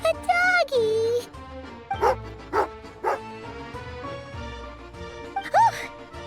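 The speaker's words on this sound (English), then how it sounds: "Oh, a doggy." Tagarin, a dog in Genshin Impact, gives a few short yips and barks in separate bursts close by, mixed with game music and voices speaking around them.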